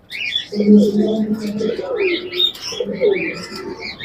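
Fancy pigeons at a pigeon market in Rajshahi coo and chirp nearby in a warbling, overlapping stream, with people's voices mixed in around them.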